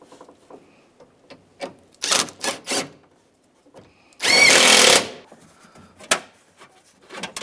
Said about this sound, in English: put our window channel bolt back in